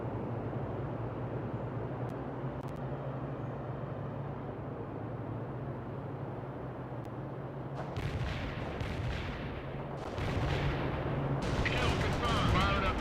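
Gunfire and grenade blasts in the strategy game World in Conflict, with a steady rumbling battle din that grows denser and louder in the final seconds as sharper bursts break through.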